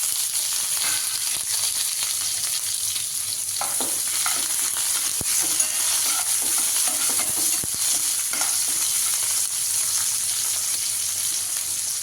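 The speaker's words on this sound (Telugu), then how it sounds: "జీలకర్ర, ఎండుమిరపకాయలు, నెక్స్ట్ ఉల్లిపాయ వేసుకోవాలి." Onions fry in hot oil with cumin seeds and dried red chillies, a loud, dense, continuous sizzle with occasional stirring scrapes, close up and without speech.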